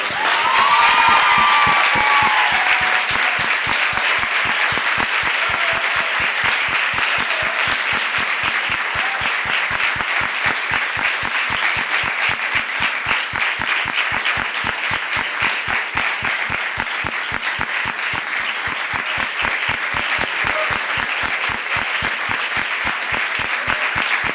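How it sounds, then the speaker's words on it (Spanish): Sustained audience applause opening an international youth congress in a large hall, a long, even roar of many hands clapping with faint cheering, steady and loud for over twenty seconds. "Y yo quiero pedirles a todos realmente un fuerte aplauso"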